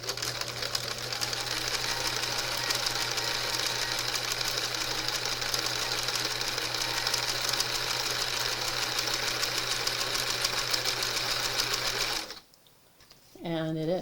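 A vintage JCPenney 0104 heavy-duty sewing machine set to a blind hem stitch runs steadily and loudly for about twelve seconds with a constant hum and rapid needle chatter, then stops abruptly.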